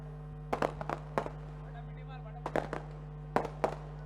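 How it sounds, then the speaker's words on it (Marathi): Fireworks at an Alibag Premier League cricket tournament night pop in sharp, separate bursts, some close together, heard at moderate distance under a faint steady background hum and some voices. "नेत्रदीपक अशी फटाक्यांची आतिषबाजी"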